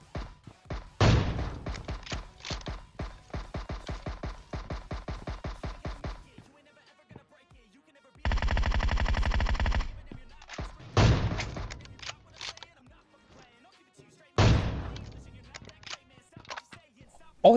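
Minigun fire rattles out in long, rapid automatic bursts during a PUBG Mobile match, loud and close, separated by pauses and shorter volleys of shots.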